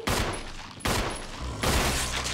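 Three loud gunshots fired in Resident Evil Remastered, each a sharp blast at even intervals of roughly a second, with a ringing tail and faint game ambience in between.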